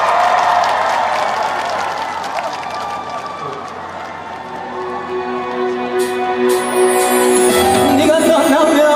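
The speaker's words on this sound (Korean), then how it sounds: "큰 박수 부탁드립니다." Audience applause and cheering from a crowd at an outdoor beer festival concert, continuous and loud, with music tones entering toward the end.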